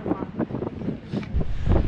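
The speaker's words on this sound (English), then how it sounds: "It's a very awesome spot and it's very windy" Steady wind buffeting the microphone at a coastal lookout near Cape Town, a low rumbling roar with gusts that swell louder toward the end.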